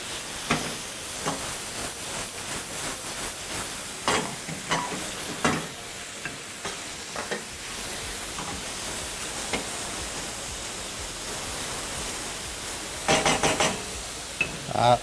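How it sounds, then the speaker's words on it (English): Beef liver sizzles and fries in a pan while being tossed, a steady hiss punctuated by repeated scraping and stirring clatters of the utensil against the pan. "Continue tossing the liver."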